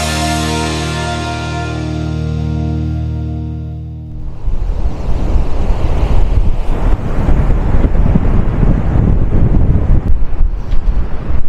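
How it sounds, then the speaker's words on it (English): Strong wind buffets the microphone in loud, rough gusts after a few seconds of steady tonal sound, roaring close and continuous, at a golf course on the bay at Elliston on the Eyre Peninsula, Australia. "Morning from a very windy Elliston."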